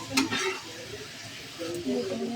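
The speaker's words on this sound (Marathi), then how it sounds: "आपलं किसलेला दोडका टाकायचा, मधनं हलवून घ्यायचं" Stirring grated ridge gourd in a hot pan, with a soft scraping sizzle and a few brief clinks near the start, steady and close.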